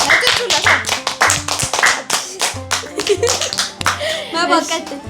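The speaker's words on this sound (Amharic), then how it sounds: "አጨብጭቡላት እንጂ" Clapping for a contestant in a home challenge game, a few people clapping in uneven bursts of sharp claps, close, with voices talking and calling out over them.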